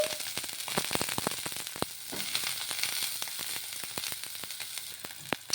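Green chillies and fresh coconut pieces fry in oil, with a bright continuous crackle and sizzle punctuated by many quick spoon clicks against the pan throughout.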